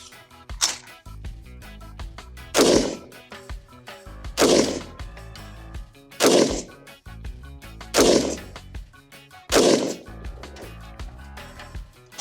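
An H&R 723 AR15 rifle fires Fiocchi M193 55 grain 5.56 rounds at a 100-yard outdoor range, six loud sharp reports at a slow, even pace, each trailing a brief echo.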